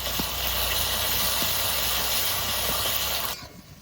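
Ginger and garlic paste hits fried onions in a hot pan while goat curry is cooked in a village kitchen. It gives a steady, bright sizzling hiss that cuts off abruptly near the end.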